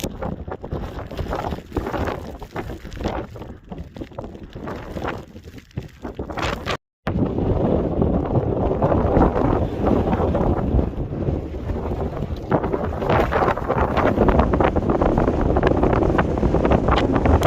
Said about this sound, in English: Fairly breezy up here.